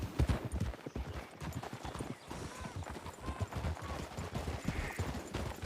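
Several horses' hooves clop steadily and closely in a cramped space, a dense, continuous patter of hoofbeats with no talking.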